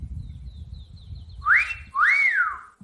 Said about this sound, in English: Sorry for the phone sounds.